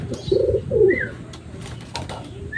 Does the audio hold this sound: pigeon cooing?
yes